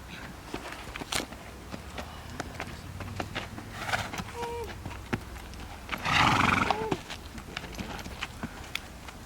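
A stallion walking with hooves clopping at an uneven pace, then a loud, close neigh and snorting bursts midway, with a few whinnying calls and people talking quietly in the background.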